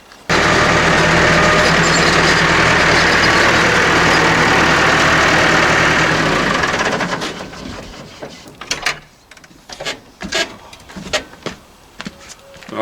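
A McCormick tractor's diesel engine idles steadily and close up for about seven seconds, then cuts out, leaving scattered knocks and clatter.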